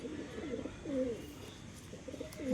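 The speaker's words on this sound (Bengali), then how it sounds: "এটা মীরাওয়ালা পায়রা আছে, দেখে নিন।" A Mirawala pigeon, an open-tailed fancy breed, coos in low, rolling phrases that repeat through the short stretch, close by and moderately loud against faint background noise.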